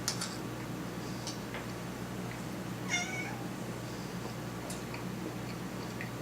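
A cat meows once, briefly, midway through a quiet indoor scene, with faint steady ticking and a few small clicks in the background.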